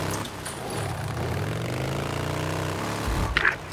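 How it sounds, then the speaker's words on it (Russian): An engine drones steadily in the video game Days Gone, a continuous low motor hum with slowly shifting pitch, heard alone before a brief burst of other noise at the end. "Я слышу шум мотора."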